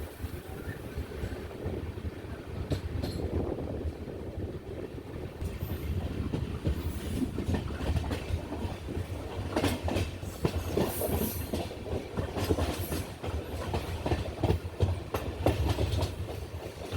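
The Himsagar Express runs through Thiruvananthapuram South on its way toward Nemom, with loud, close rumbling, rhythmic clickety-clack of the wheels over rail joints, and occasional sharper metallic clanks and squeals.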